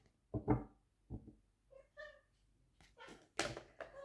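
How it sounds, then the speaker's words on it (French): A cat meows a few times in short, separate calls, fairly close, with quiet pauses and some faint rustling between them. "Si vous entendez mon chat miauler"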